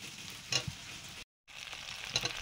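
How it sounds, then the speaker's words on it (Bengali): Food fries on a flat tawa griddle, making a soft, steady sizzle with a couple of brief stirring scrapes, and it cuts out to silence for a moment in the middle. "তারপরে এবার ইয়ের মতো দিয়ে একটু তাওয়ায় ভাজা।"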